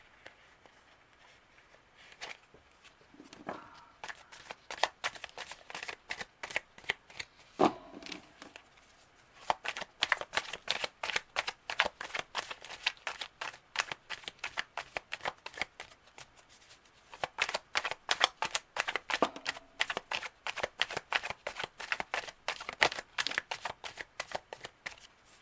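Rapid, crisp riffling of tarot cards being shuffled repeats in quick bursts with short pauses between, close and clear with no talking.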